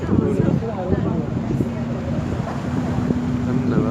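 Wind buffeting a microphone at the harbour in Gothenburg, a steady rumbling gust noise with a low engine-like hum beneath it, continuous for several seconds.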